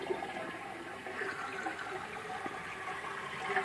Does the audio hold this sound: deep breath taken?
no